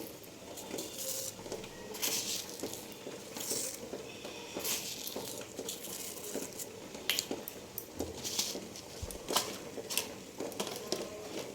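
Tea boils in a pot with a steady, close bubbling patter and hiss, broken by occasional soft clinks of kitchen utensils.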